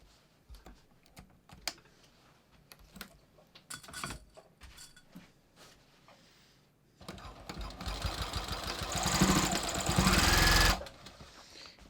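A sewing machine stitching the seam of denim jeans up to a godet insert for a flared leg, opening with scattered clicks and handling taps, then a steady close motor whir running for several seconds before stopping.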